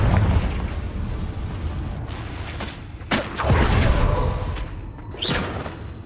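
In Hogwarts Legacy, a fiery blasting spell sets off loud, booming explosions during combat, heavy low rumbles and sharp bursts layered over continuous game noise.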